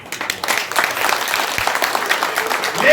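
A crowd claps steadily at a community gathering in Delhi's Amar Colony, a dense patter of many hands filling the space from start to finish after the speaker asks for applause.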